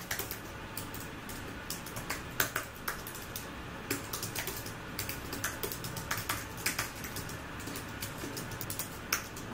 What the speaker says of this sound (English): Now let me try some typing.